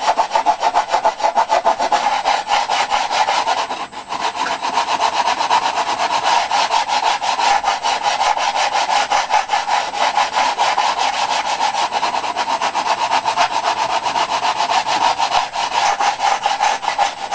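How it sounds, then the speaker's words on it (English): Steady, continuous rasping strokes of sandpaper over a balsa wood rib on a Sopwith Pup model airplane fuselage, close and even throughout with no talking. "as you're sanding it, you might catch the rib and snap it off"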